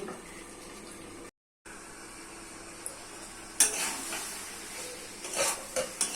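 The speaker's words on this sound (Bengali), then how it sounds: "কষে কষে রান্না করে দিতে হবে ঢাকা দিয়ে" Teasel gourd, potato and dried shrimp curry frying in a pan, a low steady sizzle with a few sharper clinks and scrapes of stirring toward the end, fairly quiet and with no talk over it.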